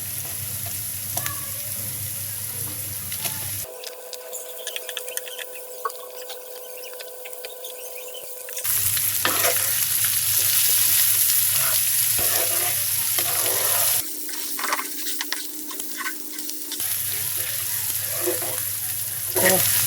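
Pieces of beef tripe hit a hot pan and fry with a loud, dense sizzle that swells and drops in bursts, with stirring scrapes and a brief quieter spell between.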